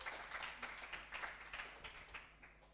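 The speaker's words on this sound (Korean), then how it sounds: "박수로 맞아주시면 감사하겠습니다" Applause from a conference audience welcoming a speaker, very quiet and distant-sounding, a continuous patter of many hands clapping that slowly fades.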